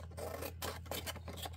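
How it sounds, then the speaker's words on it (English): Scissors snipping excess paper from a handmade Christmas flip book album, a close run of quick rasping cuts with short pauses, no talking. "I'm going to just use my scissors to cut off the excess."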